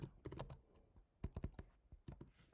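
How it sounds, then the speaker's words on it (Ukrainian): Fingers type a password on a computer keyboard in short bursts of close, crisp keystrokes, with brief pauses between the clusters of taps. "Пишу пароль"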